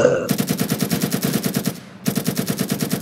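Rapid automatic gunfire in the video game Ravenfield, a fast, even burst of loud shots that stops briefly near the end, then resumes just as steadily.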